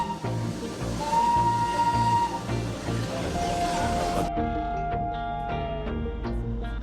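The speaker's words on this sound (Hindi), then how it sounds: "वो सीटी की पुकार जो सफर की शुरुआत का एहसास कराती है" The steam whistle of the Darjeeling Himalayan Railway toy train sounds in two sustained, loud tones over a constant hissing steam rumble, close by, with the hiss cutting off partway through.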